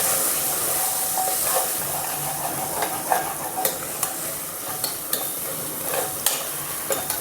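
Biryani ingredients sizzle and fry in a hot pan while a spoon stirs them, producing a steady hiss broken by sharp scraping clicks of the utensil, close up and without talking.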